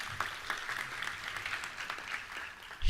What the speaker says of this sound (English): Give her another round of applause for me,